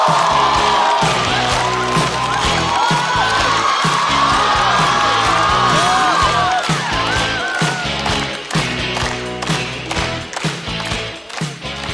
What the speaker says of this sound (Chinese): 掌声欢迎电竞解说管泽元。